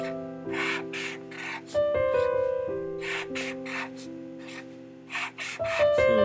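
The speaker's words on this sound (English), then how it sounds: "So let me draw some hangers." A pen sketching hangers on paper gives scratchy scribbling strokes in several short bursts, set against steady background music with sustained tones.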